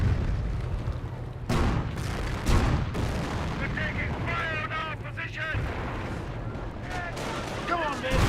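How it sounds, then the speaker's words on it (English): Calliope rocket barrage in Company of Heroes, a rolling series of booms and sharp blasts that continue throughout, with someone talking over the fire. "Calliope Rocket Barrage running on in."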